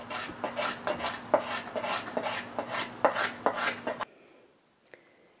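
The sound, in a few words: scraping a spruce violin top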